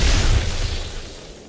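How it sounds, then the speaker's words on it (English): A booming explosion in a horror video game, a loud low blast that rolls off and fades over a second and a half. "Explode. Poof! Kaboom!"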